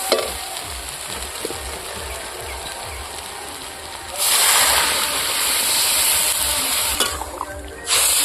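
Water poured into a sizzling pan of curry with green banana, radish and potato, a steady frying hiss that swells into a louder rushing sizzle partway through and again near the end.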